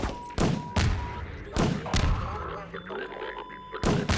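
Cluster grenade in a video game going off in a rapid series of heavy booming blasts, loud and close, separated by short gaps, with game effects and a faint tone between them.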